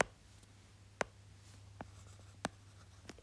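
Chalk taps and scratches on a board during a chemistry lecture, four or five short, distinct strokes spaced irregularly over a steady low hum, with no voices.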